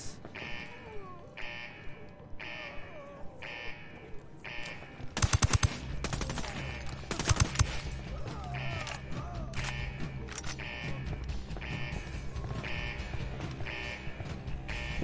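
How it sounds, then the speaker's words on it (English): In the video game Ghost Recon Wildlands, a mounted machine gun fires rapid bursts amid game sound effects and music, with loud stretches of gunfire in the middle of the clip. "she's on a machine gun."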